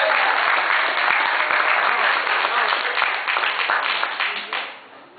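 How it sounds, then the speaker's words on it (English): Dense audience applause for a performer coming to the stage at a poetry and pancakes event, a full crowd clapping steadily before fading away near the end. "I want everybody to give a round of applause to Brother Jose Garcia."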